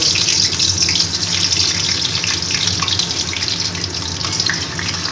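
Sliced potatoes fry in hot oil in a pan, giving off a loud, steady, hissing sizzle that holds evenly for several seconds, with no talking over it.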